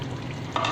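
Tomatoes and green chilies go into frying masala for chicken, a soft sizzle and stir with a brief louder hiss of fresh ingredients hitting hot oil near the end.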